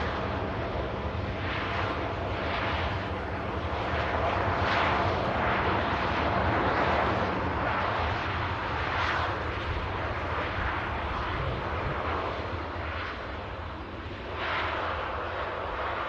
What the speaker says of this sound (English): Ryanair 737 just rolling out on Manchester Airport.